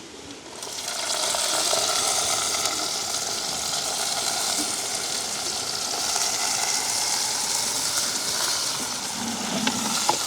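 Sliced onion and green chilli drop into hot oil for a drumstick curry in a village kitchen. A loud, steady sizzle starts at once and holds throughout, with faint stirring underneath.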